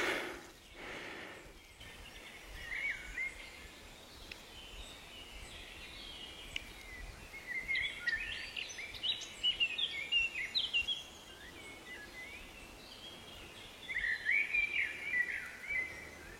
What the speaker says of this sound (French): pour écouter le bruit des oiseaux